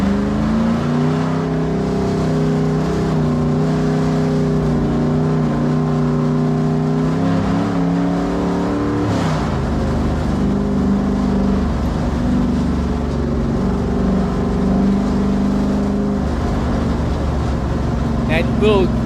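Race car engine at Darlington Raceway rumbling and revving as it pulls onto the track, a loud, steady, close drone with layered harmonics that shifts pitch midway, while someone talks over it.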